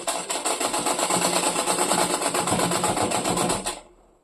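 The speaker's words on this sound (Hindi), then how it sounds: "तो देखो अभी हम यहाँ पे सिलाई लगाएंगे" Sewing machine stitching skirt panels together along a zip seam: a fast, even rattling run of stitches close by, steady for several seconds before stopping abruptly, no speech.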